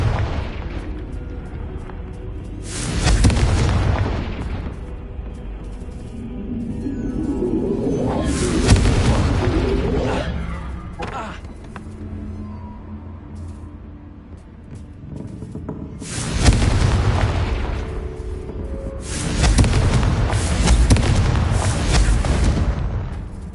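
Confringo fire-blast spells detonate in the video game Hogwarts Legacy, four or five loud booming explosions spaced several seconds apart, each rolling into a rumbling tail over a continuous low background.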